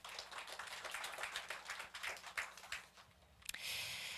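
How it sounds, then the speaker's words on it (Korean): Audience applause at an air-quality symposium in Yongin, a sparse patter of claps that sounds faint and distant, ending in a sharp tap and a brief steady hiss. "다시 한번 소장님께 박수 부탁드립니다"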